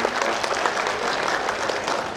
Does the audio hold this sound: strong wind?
no